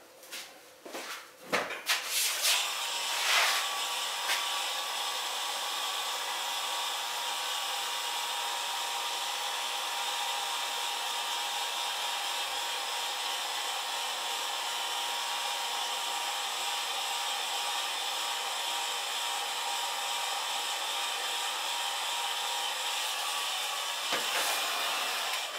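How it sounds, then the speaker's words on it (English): A heat gun blasts a steady, loud hiss over wet clay tankards being sealed with an emblem in a pottery, starting after a few clicks and handling knocks and running almost unbroken for the whole span. "over here, I've got a heat gun."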